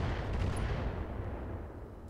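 Dense, continuous gunfire fills a tactical shooter game, a sustained loud barrage of rapid shots and booming blasts that rumbles steadily with no gaps.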